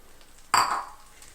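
Carrots dropped into gently melted butter in a soup pot over medium heat, a single sudden clattering splash followed by a short fading sizzle against a quiet background.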